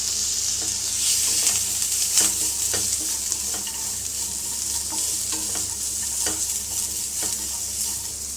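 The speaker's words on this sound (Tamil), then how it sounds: "ஒரு மீடியம் சைஸ் வெங்காயத்தை வந்து நீளமாக கட் பண்ணி வச்சுருக்கேன் அதை ஆட் பண்ணிக்கலாம்" Sliced onion fries with coconut in a pan, a steady close sizzle broken by regular scraping strokes of a spoon stirring the mix; no voices.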